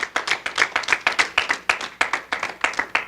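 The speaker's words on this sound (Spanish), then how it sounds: "Le des ofrenda de palmas al Señor." A church congregation claps together in praise, a dense, steady burst of many hands close by that carries on for about three seconds with no talk over it.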